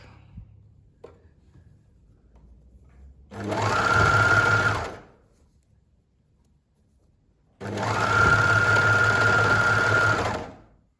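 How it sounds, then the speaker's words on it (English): An overlocker sewing machine finishing the edge of a T-shirt neckline runs in two steady, loud bursts of a few seconds each, separated by quiet handling sounds. "So the next step is to overlock."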